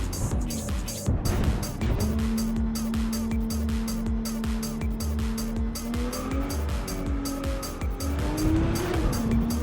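A car driving in the video game Cyberpunk 2077: a steady engine drone with a rising tone as it speeds up, plus tire squeal and road noise, loud and continuous throughout. Faint background sounds run underneath.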